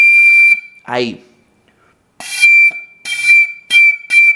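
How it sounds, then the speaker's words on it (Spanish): A recorder sounds a sustained high D in the upper octave, first alone and then as a series of repeated long tones separated by short gaps, with a brief spoken word in between. "Ese va a ser el re, pero tiene que sonar en esta altura."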